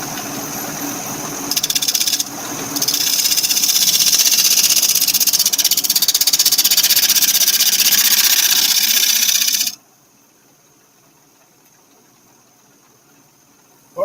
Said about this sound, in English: Pardon me while I wait for my grinder to get going.